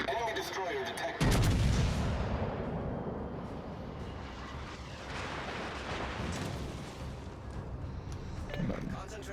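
A battleship's main guns boom in the World of Warships Legends naval game, one loud blast followed by rolling rumbles and further distant firing, with a voice speaking over the action.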